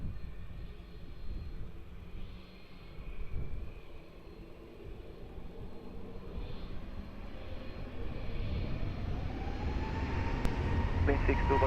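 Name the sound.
airplane taking off from runway 20 at Lisbon Airport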